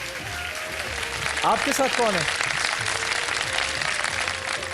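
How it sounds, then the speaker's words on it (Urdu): A studio audience applauds guests on a Ramadan iftar TV program, a steady wash of clapping running through the whole stretch beneath a voice speaking over it. "ہمارے مہمانوں کے لیے ذرا تالیاں بجا دیجئے"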